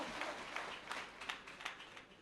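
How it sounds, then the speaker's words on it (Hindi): An audience at a stage event in Muzaffargarh claps steadily, a dense wash of applause with a few sharper bursts, moderately loud and without talk. "तालियां दी गुड़गूंज पैनी चाहिए बस"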